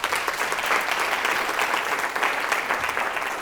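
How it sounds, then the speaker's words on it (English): Audience at a lecture applauding, a dense, steady round of clapping filling the whole short stretch with no talk over it. "just a round of applause to Rick and the entire group."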